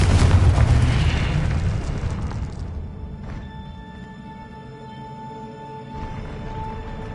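A Confringo fire spell blast in the Hogwarts Legacy video game lands as a loud, booming explosion with a heavy low rumble, then fades into a quieter ringing, tonal game-effect tail.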